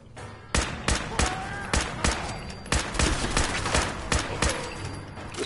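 Rifle gunfire from a Fallout-style video game battle against super mutants, a rapid string of about a dozen sharp, loud shots in an irregular burst, with no talk over them.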